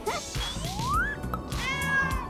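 A cat meows several times close by, with a rising drawn-out call followed by a shorter, bright meow, loud and clear with no talking.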